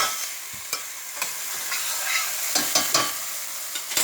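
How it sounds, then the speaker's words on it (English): Onion with a pinch of salt sautéing in a pan over a medium-high flame gives a bright, continuous sizzle with several spatula scrapes and taps, close by and fairly loud, and no talking. "I'm gonna saute this for at least 1 minute"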